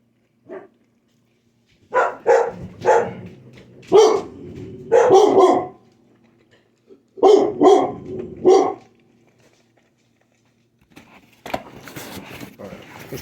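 Dogs bark in loud, close bursts of several sharp barks each, separated by short pauses, followed by quieter scuffling noise at the end.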